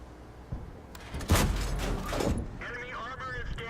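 A JagdPzIV tank destroyer's gun fires in a World of Tanks battle: a sharp thump, then a louder blast that rumbles and fades, while game radio chatter plays in the background.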